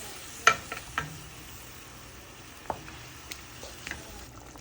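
Pieces of rohu fish go into a pan of curry with flat beans, potato and tomato, giving a soft low sizzle with a few sharp splatter pops and utensil taps, quiet and close.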